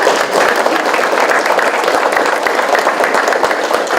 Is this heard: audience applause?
yes